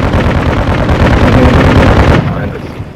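Gunfire in a video game battle: dense rapid shots and bursts crowd the first two seconds loud and close, then break off into quieter scattered noise, with a voice speaking over the action.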